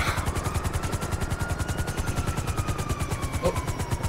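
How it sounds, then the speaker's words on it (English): Helicopter in GTA Online with steady rapid rotor chop throughout, loud and close, a faint rising whine beneath, no talking. "I would say we might want to get out of this helicopter."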